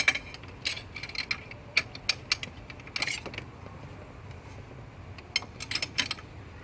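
Hand tools work on the fan clutch of a BMW E46, making quiet, irregular metallic clicks and ratchet-like ticks in short bursts, with pauses between them.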